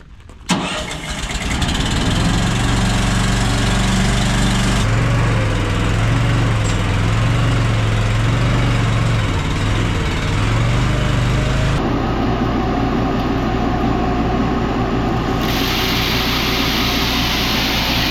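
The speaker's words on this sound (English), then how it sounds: "Now we'll start the seed tender motor up." A seed tender's motor on a farm cranks and fires, then settles into a loud, steady close-up drone that shifts pitch partway through as the engine speed changes.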